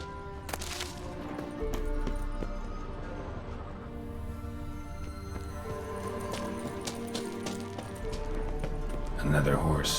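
Kelpie, Geralt's horse in The Witcher 3, clip-clops along with steady rhythmic hoofbeats set against a game music bed and ambient sound, with brief speech-like voices and a louder burst of activity near the end.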